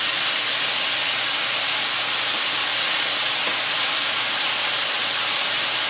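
Onions, garlic, carrots and celery sauté in hot oil for a marinara sauce, giving a steady, dense sizzling hiss that holds evenly from start to finish with no voices over it.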